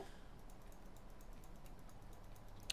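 Rapid keyboard typing during a Hive Hide and Seek game, a steady stream of soft, close key clicks at low level throughout, with a sharper tap near the end.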